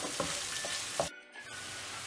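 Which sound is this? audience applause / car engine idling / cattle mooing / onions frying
onions frying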